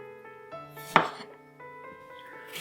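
A knife cuts apples into quarters on a board, with a couple of sharp chopping knocks standing out over a sustained tonal ring; no voices.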